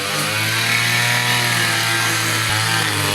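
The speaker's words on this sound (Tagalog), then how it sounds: "Para din makita natin yung performance ng bagong grass cutter." A new grass cutter runs steadily at high revs, its loud, buzzing two-stroke engine droning continuously up close with no speech.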